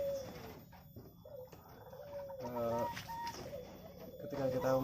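Zebra doves (perkutut) at a bird farm give soft, rounded cooing calls in short repeated phrases, close by, while someone talks over them.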